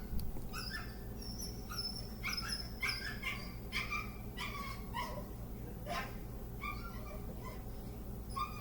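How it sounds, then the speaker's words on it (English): A new puppy, eager to play with older puppies, whimpers, yips and gives short high barks in repeated bursts over a steady low hum, fairly close. "The new puppy sees the other grown puppies, and although it sounds like it's dying, it really just wants to play"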